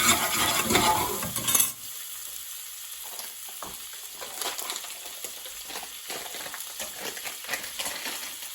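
Garlic fries in a pan for a spicy prawn bhuna curry, a loud sizzle and stirring scrape at first that drops to a soft steady crackle with occasional clinks.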